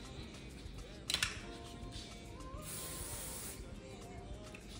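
Hairspray mists over a curled pink wig in a couple of short hissing bursts, close to the mic, with a longer steady spray following.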